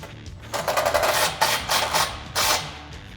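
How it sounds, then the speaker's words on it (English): Ratchet with an 18mm socket tightening a bottom bolt while installing side step bars on a Jeep Wrangler JL 4-door, rapid clicking bursts in several short runs, close and clear. "we're gonna use an 18mm socket to tighten up this bottom bolt"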